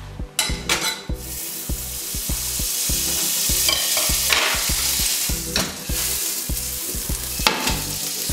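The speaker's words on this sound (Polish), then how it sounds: "Wrzucamy na patelnię masło." Butter melting and sizzling in a frying pan before melon is caramelized, a steady close frying hiss broken by rhythmic scraping and clatter of a utensil stirring against the pan.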